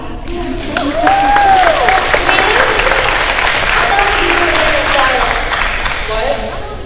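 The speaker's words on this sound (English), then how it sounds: "Oh yes, you can clap." Audience clapping for a graduating senior at a 2021 senior recognition event, continuous crowd applause with voices and a few whoops rising over the clapping throughout.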